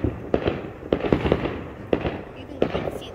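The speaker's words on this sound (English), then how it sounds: "It's like every time we stop recording, more fireworks come." Fireworks bursting nearby outdoors on a summer night, five or six sharp cracking pops at uneven intervals, fairly close, with a voice talking faintly between them.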